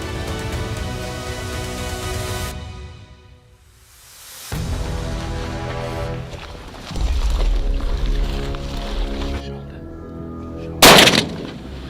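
Rifle gunshots ring out during a crocodile hunt on the Sepik River in Papua New Guinea, loud sharp reports amid outdoor noise near water, with one especially strong blast near the end.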